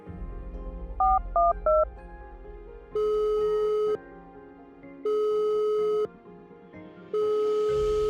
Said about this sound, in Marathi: तिने लगेच पर्स मधून फोन काढला आणि त्याला कॉल लावला